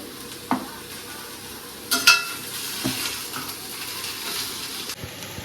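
Finely chopped pre-fried chicken fries in a pan, a soft steady sizzle with a few sharp clinks and scrapes of a utensil against the pan, close by and without speech.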